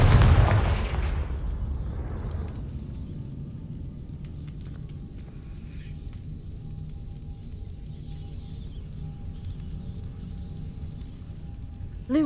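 A Confringo blasting curse detonates in the video game Hogwarts Legacy, one loud booming explosion at the start that decays into a lingering rumble, with a faint magical chime near the end.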